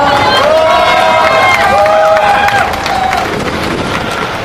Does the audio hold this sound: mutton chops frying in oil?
no